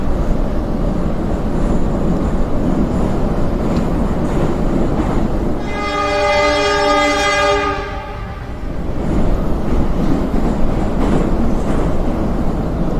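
A train ride in the video game Yuppie Psycho gives a constant loud rumble of rolling carriages, with a long, steady harmonic horn blast of about two seconds partway through.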